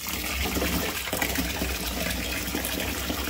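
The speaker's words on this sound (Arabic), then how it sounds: "بعد ما غسلته بالشكل هذا بتخلص من الماء" Water drains out of a pot of washed rice in a steady, close gushing pour that runs unbroken, with no talking.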